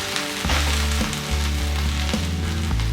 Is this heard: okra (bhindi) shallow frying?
yes